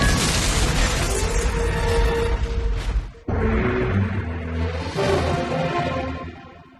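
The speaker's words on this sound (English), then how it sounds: "the Max Pharmaceuticals building located in Odaiba, Tokyo, experienced a catastrophic explosion" An animated explosion at the Max Pharmaceuticals building in Odaiba, Tokyo: a loud, dense roaring blast, a sudden cut, then a second sustained rumbling burst of debris and fire that slowly tails off.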